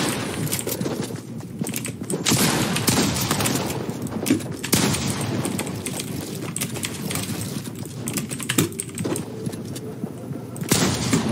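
Rapid bursts of gunfire in a shooting video game, dense and loud throughout, with heavier volleys near the start, middle and end over constant game noise.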